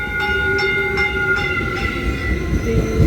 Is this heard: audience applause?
no